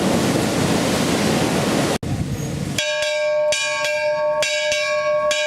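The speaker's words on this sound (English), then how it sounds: "Eight bells again." A ship's bell on the sailing ship Royal Clipper striking eight bells in a series of clear, ringing strokes, heard after a rush of wind and sea noise on deck.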